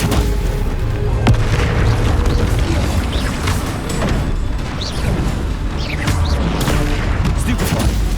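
Spell-casting combat in Hogwarts Legacy: dense, continuous blasts, booms and crackling impacts, with repeated sharp bursts and whooshes layered over a constant loud battle din.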